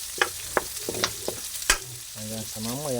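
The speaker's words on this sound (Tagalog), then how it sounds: "ilinagay ko na po ang bawang, sibuyas at luya" Garlic, onion and ginger frying in a pan, giving soft sizzling and scattered stirring clicks, fairly faint beneath someone speaking close to the microphone.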